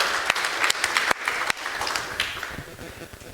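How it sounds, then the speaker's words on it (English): Audience members at a FrOSCon open-source conference clap for first-time attendees, with scattered sharp individual claps standing out over a softer, fading wash of applause and some crowd murmur. "Big applause to you."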